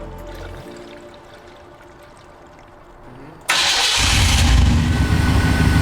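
A car engine cranks and catches, then idles loudly and steadily up close as a 50/50 coolant mixture is poured into the system. Before it starts there is only quiet background.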